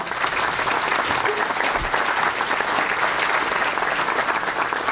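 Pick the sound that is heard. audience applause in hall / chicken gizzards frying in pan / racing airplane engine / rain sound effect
audience applause in hall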